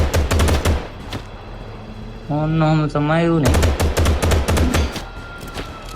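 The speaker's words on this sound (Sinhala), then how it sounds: "මට වෙඩි තියලා මරලා දැම්මා පොලිසිය." Loud, rapid automatic gunfire from police in GTA 5 rattles in close bursts, breaks off while a voice speaks over a sustained tone, then resumes in another heavy burst.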